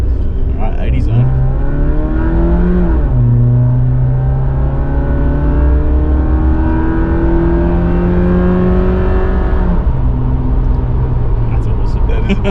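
A big-block engine swapped into a Suzuki Jimny pulls hard through the gears on a road test, its loud cabin drone climbing in pitch, dipping at a shift and then rising steadily again.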